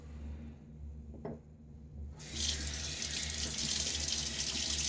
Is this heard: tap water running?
yes